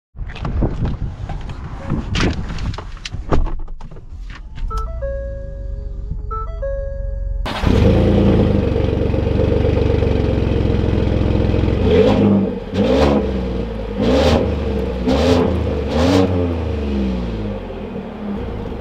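A Ford F-150 King Ranch pickup starts up and pulls away, with chimes and clicks giving way to a loud steady engine rumble and several rising revving surges as it drives off.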